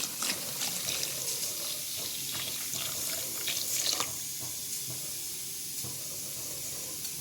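Water left from washing rice splashes and trickles as it is poured into an organic micronutrient fertiliser mix. The stream is soft and hissy, with a few brighter splashes early on before it settles into a quieter flow.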